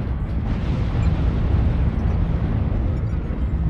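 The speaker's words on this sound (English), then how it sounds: "Warning, incoming missile." Missile explosion in the mech combat game MechWarrior Online, a loud, sustained low rumbling blast that fills the whole moment with heavy, continuous boom.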